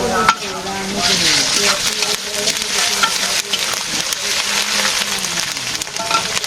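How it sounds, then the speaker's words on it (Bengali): Potatoes and onions sizzle steadily in a pan during simple village cooking, with a continuous loud hiss and occasional stirring scrapes throughout. "পেঁয়াজের সাথে আলু একটু ভেজে নিলাম"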